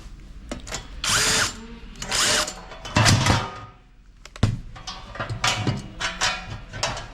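A power drill drives bolts while a machine stand is being installed, running in several short bursts of whirring separated by brief pauses, close and loud with no talk.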